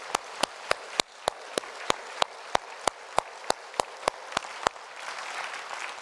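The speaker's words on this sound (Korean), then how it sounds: "우리 모두 감사한 마음을 담아서 하나님께 영광을 하는 박수를 올려 드립시다." Congregation in a church service clapping in a steady rhythm of about sixteen sharp, evenly spaced claps, then dissolving into a looser wash of applause that fades toward the end.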